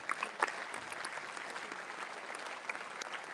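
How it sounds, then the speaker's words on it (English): Audience applause at a one-day international cybersecurity symposium, a fairly faint but steady patter of many hands clapping for about three seconds, with a few sharper claps near the start. "Clapping में थोड़ी सी जोरदार हो जाए please."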